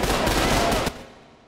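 Enemies fire a dense burst of automatic gunfire in the Trepang 2 video game, loud and continuous, then cut off abruptly and leave a fading tail.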